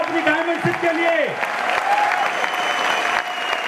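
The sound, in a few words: audience applause at Amway celebration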